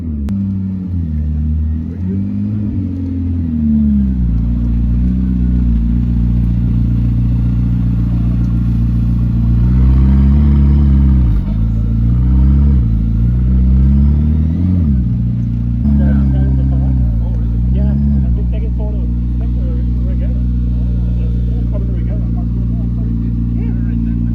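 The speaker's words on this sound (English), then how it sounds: "We've got a P1 HDK pulling in." A McLaren P1 HDK hypercar pulls in at a Beverly Hills dealership, its engine a loud, steady low rumble with rising and falling revs throughout, close by, while someone talks over it.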